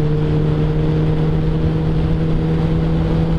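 Motorcycles, among them a CBR600RR, a Hornet, an XT660 and an XJ6, accelerate together on a road, with a loud, steady engine drone and a strong tonal hum rising close to the microphone over wind rush.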